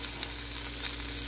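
Capsicum and prawns fry in a pan for a chilli manchurian cooked with little oil, giving a steady, close, even sizzle with no talking.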